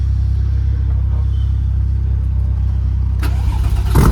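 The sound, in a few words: RWB Porsche car engine cold start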